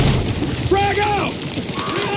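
A frag grenade goes off in the Battlefield 6 video game campaign as a deep, rumbling boom within steady battle noise, with tonal game effects layered over a dense, loud background.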